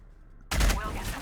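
Gunfire bursts out suddenly and loud in a Warhammer 40000 Battlesector multiplayer match between Astra Militarum and Orks, a heavy volley that rings on briefly after a quiet start.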